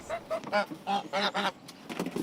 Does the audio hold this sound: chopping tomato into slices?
no